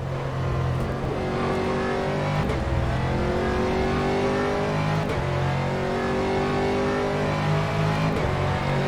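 An Aston Martin GT3 race car in rFactor 2 pulls away off the speed limiter at Imola, its engine a loud, steady drone with rising harmonic tones and brief dips at gear changes, close and continuous throughout.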